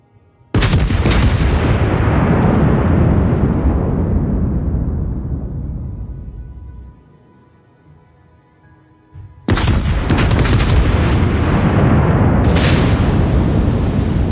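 Naval gunfire from a USS North Carolina battleship in a naval combat video game: a loud heavy booming salvo that rolls off slowly over several seconds, then another thunderous salvo with a further blast shortly after.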